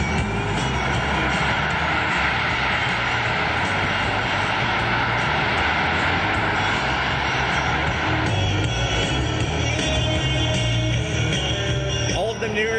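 The jet engines of a C-17 Globemaster III roar loud and steady as the transport backs up under its own power on the ground, a continuous broadband whine and rumble with a shift in tone near the end.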